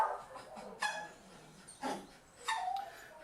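Small dog at an animal shelter letting out three short, sharp yips spaced about a second apart, fairly close and fairly quiet against a hushed kennel background.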